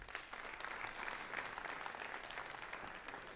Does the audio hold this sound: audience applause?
yes